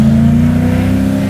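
A supercharged V8-swapped BMW E30 accelerates hard, a loud, close, rising engine drone with strong steady harmonics. The engine is heard alone, with no talking.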